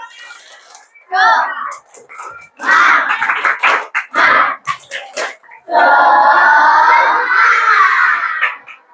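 Children and parents at a mosque parenting session join in a rhythmic spirit clap, bursts of patterned group clapping and chanting voices alternating with an adult leader speaking between rounds.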